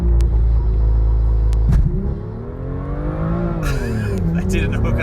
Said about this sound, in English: there was a bit of wheel spin.